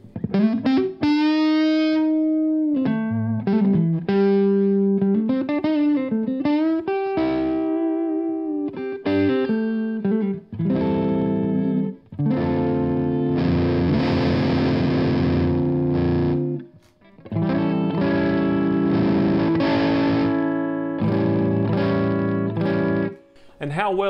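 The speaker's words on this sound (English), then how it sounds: "what you want is for that fuzz to clean up" Electric guitar through a fuzz pedal in a gigging rig: sustained distorted chords and bending sung-like notes with thick saturated harmonics, loud and continuous with brief gaps, and no talking over the playing.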